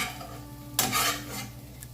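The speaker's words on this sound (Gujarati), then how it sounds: "તો જો મેં 2 થી 5 મિનિટ આ મેથીને સોટે કરી છે." Fenugreek leaves being sautéed in oil over a low flame, a short burst of stirring scrape and soft sizzle standing out briefly against a quiet, steady background hum.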